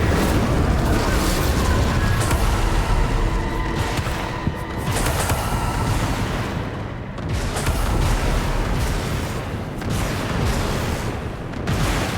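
Incendio fire spells are cast in Hogwarts Legacy, loud booming, crackling bursts of flame that roll on almost without pause amid other combat noise, with no talking.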